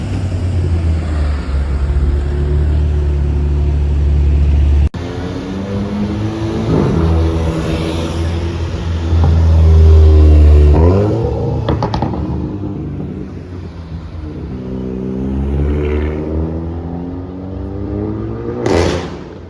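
A blue Golf 7R and an Audi RS3 accelerating in Monaco: deep engine drones rise and fall in pitch through several gear pulls, loud and passing fairly close, with a sharp burst near the end.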